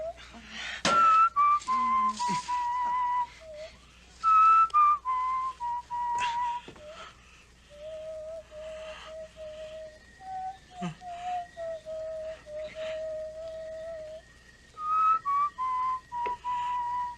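Human whistling in a series of clear, sustained notes and short phrases, close and fairly loud, with brief pauses between them and a few soft background knocks.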